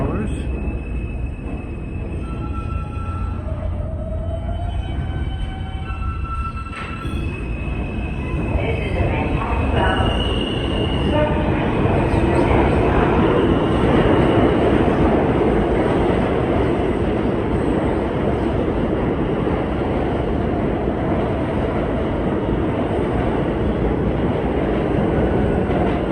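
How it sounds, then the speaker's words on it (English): A New York subway F train of R160 cars rolls through a busy underground station under Queens Boulevard, with rising roar, rhythmic wheel clatter and squealing, loud and sustained. "Here's an F train of R160s,"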